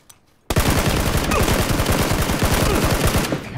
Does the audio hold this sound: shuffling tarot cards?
no